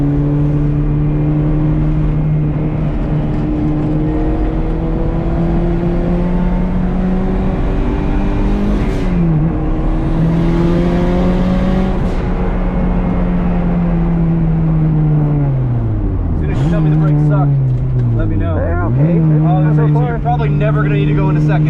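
A turbocharged 1991 Honda CRX with a B18C1 engine pulls hard around a race track, its loud droning engine note holding steady, then dipping and rising again with gear and throttle changes, while people talk over it inside the car.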